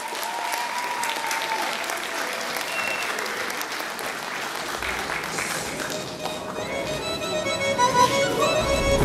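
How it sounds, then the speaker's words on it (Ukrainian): Sustained applause from a crowd at a festive Navruz spring holiday concert in Rykovo, steady dense clapping throughout that swells louder toward the end. "Аплодисменти."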